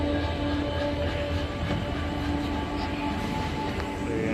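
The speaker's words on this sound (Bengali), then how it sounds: "ট্রেন ছেড়ে দিয়েছে, আস্তে আস্তে ট্রেন এগিয়ে যাচ্ছে।" Howrah to Bokaro Steel City Express pulling away slowly from a quiet platform, a continuous rail rumble with faint clickety-clack and thin tonal squeals from the wheels throughout.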